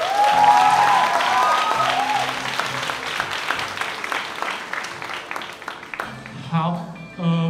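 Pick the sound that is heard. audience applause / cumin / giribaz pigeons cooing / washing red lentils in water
audience applause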